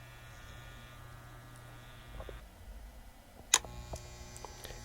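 A vintage 1970s Andis Model M hair clipper runs with a low electric motor buzz and steady hum, joined by higher whining tones and a sharp click partway through, fairly quiet and close.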